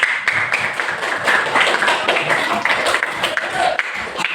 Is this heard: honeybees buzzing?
no